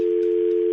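A steady, loud telephone dial tone hums continuously after a call is hung up, with a few faint clicks and bits of background noise over it.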